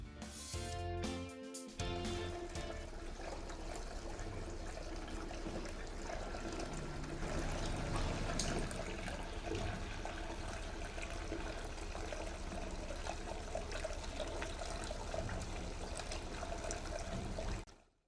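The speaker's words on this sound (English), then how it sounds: "should you wish a little bit more sound from your Birmingham Fountain" Water spills and trickles steadily through the tiers of an outdoor Birmingham Fountain with LED light rings and foam splash reducers in each bowl, a continuous close splashing stream that carries on with no talking.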